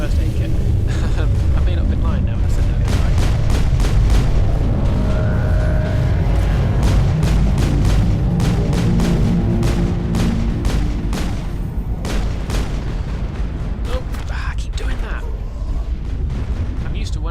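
Rapid bursts of gunfire and heavy booms in the sci-fi shooter Mass Effect, sharp repeated shots cracking over a loud rumbling battle bed for most of the stretch, with a player talking over it.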